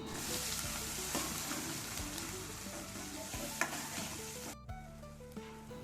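Onions and ground masala paste fry in oil for an eggplant kuzhambu, a steady close sizzle with occasional stirring scrapes and clinks in the pan.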